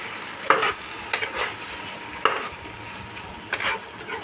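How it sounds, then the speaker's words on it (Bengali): Fried pointed gourd pieces are stirred into fried coconut in a pan, a soft continuous sizzle under four distinct spatula scrapes and clacks spaced about a second apart, close by with no voices. "এবার আমি ভেজে রাখা পটলগুলো দিয়ে দিলাম।"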